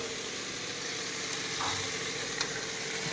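Malabar spinach tipped into a pan where pabda fish is frying with fish roe, giving a steady, close hiss and sizzle of hot oil with a brief burst of spattering partway through.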